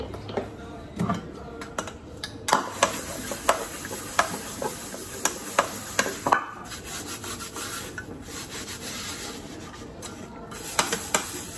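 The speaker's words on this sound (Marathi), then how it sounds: "हा स्वच्छ घासून घेते." A pan used for frying fish and eggs is scrubbed clean by hand, a close series of rhythmic rubbing scrapes and strokes with short pauses, with faint speech briefly in the background.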